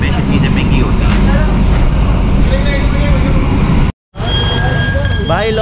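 Rumble inside a moving passenger train between Semarang and Surabaya in Indonesia, a loud steady low drone with a brief cut near four seconds, while someone talks over it.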